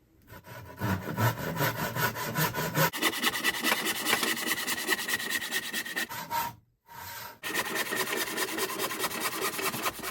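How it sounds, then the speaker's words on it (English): Close, steady strokes of a hand saw cutting through a wood blank for a bass guitar body, with a rasping back-and-forth rhythm. The sawing runs continuously and stops briefly twice. "So we've sawn all the way down, close to where we want, all the way through."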